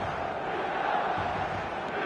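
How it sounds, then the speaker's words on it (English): Dense, continuous roar of a packed stadium crowd in a football video game's match-day atmosphere, loud and unbroken throughout. "The stadium is full of noise and energy."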